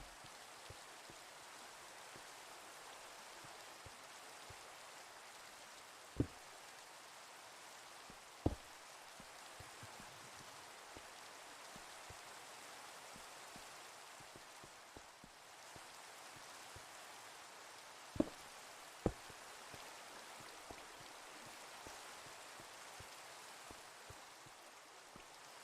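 Soft, steady rain hisses across a video game world in The Citadel, quiet and even, broken by a few sharp isolated ticks.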